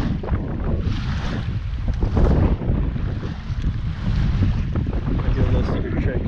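Wind blowing over open water during night fishing for striped bass: a steady, loud, broadband rush with gusty swells and buffeting microphone roar throughout, heard alone without speech.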